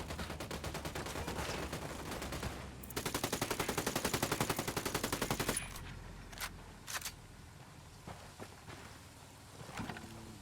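Gunfire in Ghost Recon Wildlands, with bursts of rapid automatic fire, a long sustained machine-gun stream, then scattered single shots and distant cracks against outdoor ambience.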